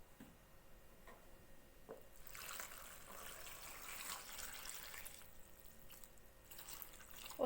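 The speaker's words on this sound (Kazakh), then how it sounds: "үстіне су құямыз" Water poured from above over sliced eggplant sitting in a bowl, a steady splashing rush that swells and holds for several seconds, near and moderately quiet, with a few small clinks before it.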